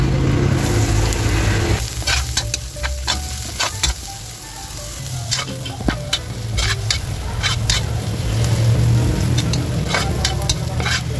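Chopped onion added with garlic to hot oil in a pan for pork giniling, sizzling loudly and steadily with repeated clacks of a utensil stirring against the pan.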